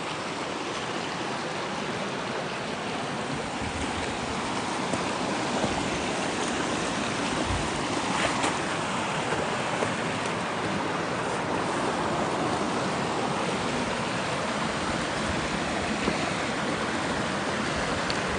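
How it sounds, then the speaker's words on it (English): Fast mountain streams and brooks swollen with snowmelt rush past close by in a loud, continuous broadband roar of churning water that never lets up, with no voices over it. "All the streams and all the brooks are kind of flowing together."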